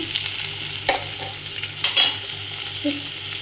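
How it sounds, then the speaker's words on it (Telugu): Ivy gourd (dondakai) pieces fry in oil in a pan with steady close sizzling, broken by a few scraping stirs of a spatula, heard alone without talk. "మధ్య మధ్యలో ఇలా తిప్పుతూ ఫ్రై చేసుకుంటూ ఉడికే వరకు ఫ్రై చేసి పెట్టుకోండి"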